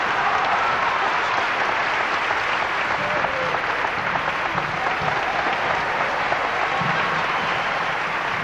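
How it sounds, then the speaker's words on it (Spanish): Dense, sustained applause from a theatre audience at a 1990 comedy stage show, loud and steady throughout with no break. "a quien recibimos con un fuerte aplauso"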